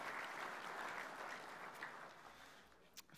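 A crowd at a football league awards night claps in continuous applause, a soft, distant patter that fades slightly toward the end.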